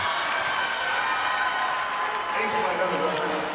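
A crowd cheers and applauds at an Oregon vs Minnesota NCAA volleyball regional final, a steady wash of clapping and shouting from a full arena with a commentator talking over it.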